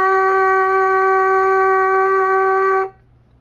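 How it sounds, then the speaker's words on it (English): Lips buzzing into a brass instrument mouthpiece produce one steady, loud, nasal tone held for about three seconds before stopping abruptly, close and unaccompanied. "If I am to buzz my lips into a mouthpiece,"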